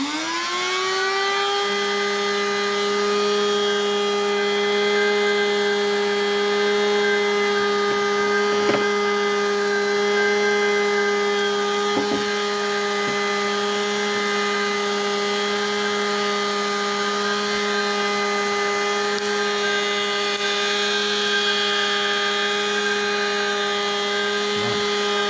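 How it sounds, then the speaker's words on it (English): A small welder used for soldering automotive wire connections switches on and settles into a steady electric hum that holds, loud and unbroken, for the whole stretch with no talk. "So now I'll turn on my welder."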